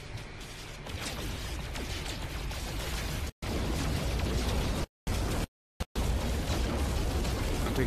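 A No Man's Sky starship takes gunfire and explosions during a dogfight. Dense crackling impacts and booming blasts roll on continuously, loud and busy, broken by several brief drops to total silence.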